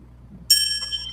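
A single bright notification-bell ding starts abruptly after a quiet lead-in, then rings on with a long sustained shimmer and no speech.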